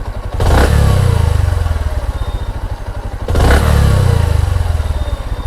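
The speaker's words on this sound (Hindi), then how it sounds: "बाइक ये जो थ्रॉटल है, थ्रॉटल ऑफ करने के बाद तुरंत ही बाइक ऑफ होना चाहिए, मतलब स्पीड कम होना चाहिए।" A Bajaj Platina H-Gear motorcycle being tuned at the carburetor revs sharply twice, each time with the throttle released and the engine dropping back slowly toward a steady, close idle.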